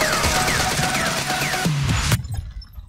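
Gunfire in a Warzone match: a dense run of rapid shots with sharp cracks and ringing tones, then a single loud burst and abrupt silence, close and loud.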